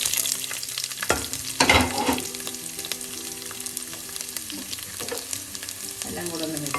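Chopped ginger, garlic and green chillies sizzle and crackle in a pan while being stirred for a chicken mappas curry, with a few louder scraping stirs early on over a continuous close frying hiss.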